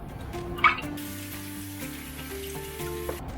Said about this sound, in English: So we're gonna open our beans and rinse them out.